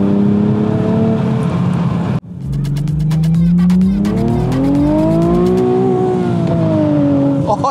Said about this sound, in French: Oh, la patinée directe.